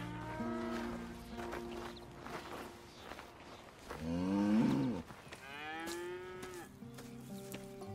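Cows moo several times in the video game Red Dead Redemption 2, long drawn-out lowing calls with one loud bellow midway, over a soft scuffing of footsteps and background music.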